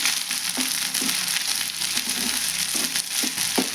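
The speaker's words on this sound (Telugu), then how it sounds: "కొద్దిగా పచ్చివాసన పోయేంత వరకు ఫ్రై చేస్తే సరిపోతుంది అనుకుంటున్నాను" Bitter gourd curry fries in a pan with a dense, constant close sizzle, while a spoon scrapes and stirs in regular strokes roughly every half second, and nobody speaks.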